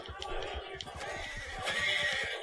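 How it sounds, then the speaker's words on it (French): A horse in the video game Red Dead Redemption 2 whinnies and snorts close by, with a rhythmic clip-clop of hooves running underneath and a faint voice in the background. "Je suis avec mon cheval"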